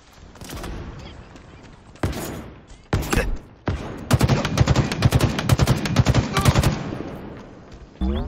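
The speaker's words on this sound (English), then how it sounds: "Taking fire." Video game gunfire in an abandoned city, scattered single shots that build into a dense, loud burst of rapid automatic fire before cutting off.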